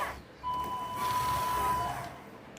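An RC Mitsubishi Canter truck model built for contests drives forward and reverses, giving off a steady high electronic tone like a reversing beep over a faint motor whir.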